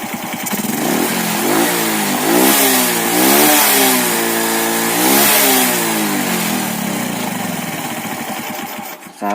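A motorcycle engine, just serviced with its spark plug adjusted, revs repeatedly up and down close by, loud rising and falling pitch sweeps over a steady idle before the engine is switched off.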